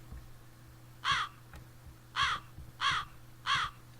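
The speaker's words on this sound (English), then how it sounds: "let's get our crow effect." Four loud, harsh crow caws from a sound-effect sample in a dark trap beat made in FL Studio 12, one then a pause and three more in fairly even succession, standing alone over a faint low hum.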